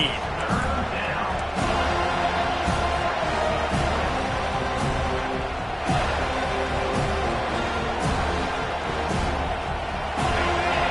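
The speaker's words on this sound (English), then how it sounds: "this crowd is tearing the lid off this place" Roaring stadium crowd noise in the college football video game NCAA 25, a dense continuous din with periodic louder thumps and swells, heard under a game commentator's voice.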